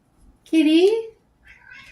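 A single close, fairly loud cat meow rises and falls in pitch, followed by a softer, fainter trailing sound.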